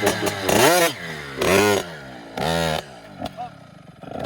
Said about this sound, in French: on peut commencer à essayer de mettre deux petits coups de gaz